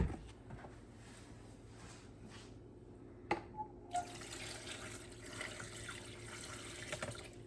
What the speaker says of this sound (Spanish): En el caso mío yo le voy a poner agua fría.